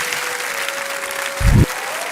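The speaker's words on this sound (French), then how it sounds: "On peut applaudir Cyril." Studio audience applause for a magic act, an even wash of clapping with a steady tone running under it and a brief low thump near the end.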